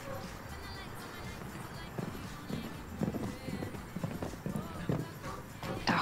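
A horse's hooves clip-clop on turf during a show jumping round at an international equestrian qualifier, a steady rhythm of faint thuds with commentary-like voices and distant ambience underneath.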